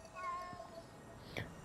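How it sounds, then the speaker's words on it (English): A cat in Ghostwire Tokyo gives a short, clear meow up close, followed by a brief second cry in a quiet street ambience. "I hear a cat now."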